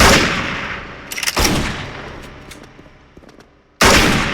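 FR-F2 rifle shots in the shooter Special Force, loud sharp cracks with ringing tails. A short burst near one second is followed by scattered fainter shots, then a sudden heavy blast near the end.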